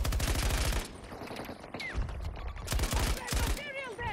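Rapid bursts of automatic gunfire in the video game Battlefield 2042, loud and dense at the start and returning near the end, with a voice talking over the shooting in between.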